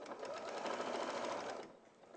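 A domestic sewing machine stitches steadily at close range, a fast even whirr of needle strokes that runs for most of the moment before slowing and easing off near the end.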